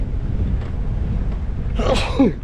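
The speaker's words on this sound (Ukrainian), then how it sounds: "ще чхну, вибачте." A single close sneeze bursts out near the end over steady outdoor wind and background rumble, with a brief breathy intake just before it.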